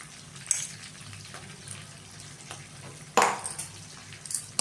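Spice powder is stirred into green chillies frying in oil for Andhra pachhi mirapa avakaya pickle: a soft, low sizzle broken by scraping stirs, with one louder scrape partway through.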